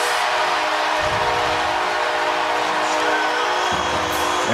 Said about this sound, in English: And that train horn sounds a little louder now, doesn't it?